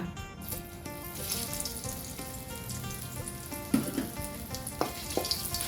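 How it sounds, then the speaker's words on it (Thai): Southern Thai red curry paste sizzles and crackles steadily in hot oil in a pan, with occasional sharper pops and the clink of a utensil against the pan. "น้ำมันร้อนใส่พริกแกงลงไปเลยค่ะ"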